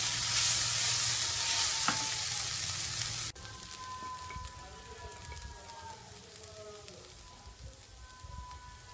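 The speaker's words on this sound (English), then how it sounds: "Give a thorough mix." Bell pepper rice is stirred in a hot pan, starting with a loud, bright sizzle that drops abruptly to a softer, quieter frying and scraping.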